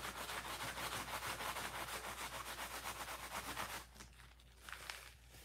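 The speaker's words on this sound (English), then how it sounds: "Rubbing that excess ink off." Wadded newspaper in cloth is rubbed steadily back and forth over a hand-engraved printing plate to clear off excess ink, making a continuous scratchy, rhythmic scrubbing that eases and softens near the end.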